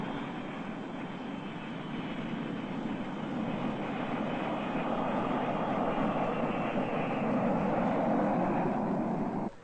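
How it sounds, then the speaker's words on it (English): A steady, loud roar of jet engines that swells slightly toward the end, continuous and broadband like an aircraft coming in to land. "Slowly and carefully, their jet approaches the landing field. And soon the wheels touch the runway"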